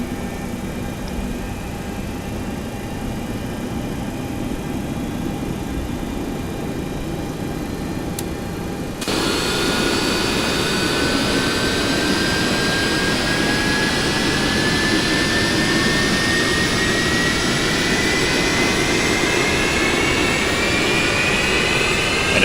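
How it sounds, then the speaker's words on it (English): Jet engines on a Boeing 737-200 in the X-Plane 11 flight simulator spool up with a loud, steady roar that grows heavier partway through and keeps building to the end, with no talking. "I just love listening to those engines spool up."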